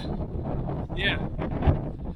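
Cold wind gusts across a hill track, a rough low buffeting rumble on the microphone under a voice, with a brief higher whoosh in the middle.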